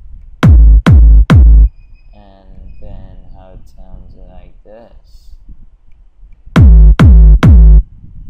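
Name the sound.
chillout trance track in FL Studio with parametric EQ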